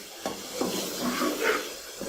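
Carrot halwa being stirred and roasted in ghee in a pan, giving a soft continuous sizzle with a few scraping stir strokes, close and moderately loud.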